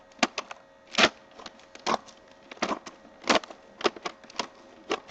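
Scissors cut through a large Mylar storage bag in a quick series of crisp, crinkly snips, near and fairly quiet, with no talking.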